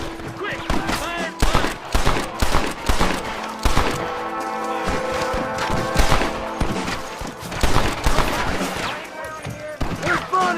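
Repeated gunshots ring out in a Red Dead Redemption shootout, a ragged volley of sharp cracks spread across the scene, mixed with shouted voices and background music.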